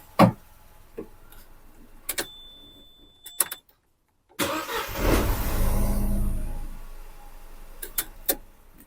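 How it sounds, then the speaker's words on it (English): A Vauxhall Corsa three-cylinder petrol engine, just fitted with a new timing chain, gives a few sharp clicks, then cranks, catches and settles into a steady idle close by, with further clicks at the end and no talk. "See, now it starts, no problem. Starts, runs, no problem."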